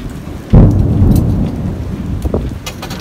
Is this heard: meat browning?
no